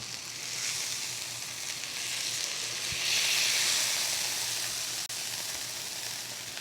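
Steak sizzling steadily in a hot pan after being flipped for citrus steak tacos, a continuous close frying hiss that swells slightly midway, with one brief click near the end and no talking.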